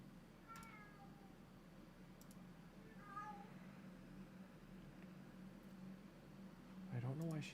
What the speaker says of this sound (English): Sorry guys, if you can hear my cat right now.